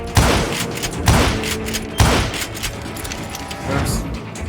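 Heavy gunfire in Call of Juarez: Gunslinger, three loud booming volleys of shots at roughly one-second intervals, each with a clattering tail, followed by scattered quieter reports.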